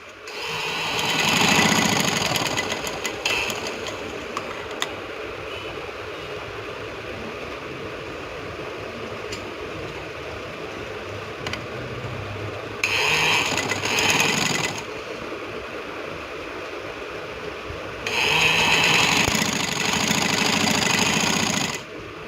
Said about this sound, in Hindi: इस तरह से अब हम किनारे पर सिलाई लगाएंगे।